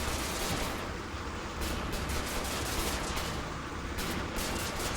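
Dense, continuous gunfire from the first-person shooter Wolfenstein: The New Order, loud and sustained for several seconds with overlapping rapid shots and booming low rumble, no speech over it.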